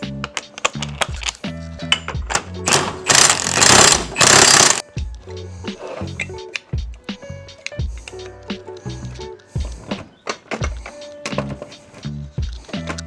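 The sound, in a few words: socket and ratchet driving in a Tacoma axle pinion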